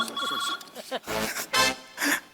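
A phone rings near a man in a Marathi comedy sketch, sounding several bright repeated bursts with short gaps. Speech is heard over the start of the ringing.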